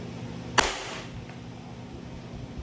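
A single sharp airsoft shot fired with green gas number 14, a sudden crack with a short hiss trailing off, standing alone over a steady low background hum.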